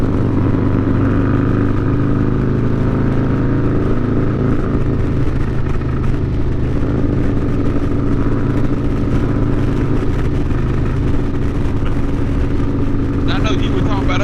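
Harley-Davidson motorcycles ridden on the Foothills Parkway roar steadily and loudly as they speed up, the engine drone rising in pitch under continuous wind rush.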